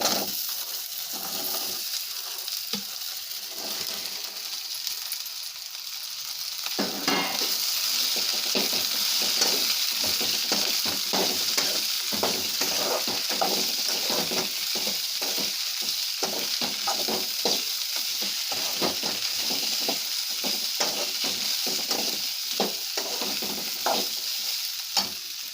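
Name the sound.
beans and potatoes added to frying onions, stirred in pan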